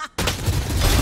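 Valorant gunfire erupts as one loud, close burst after a brief quiet moment, with the dense blast filling the rest of the second.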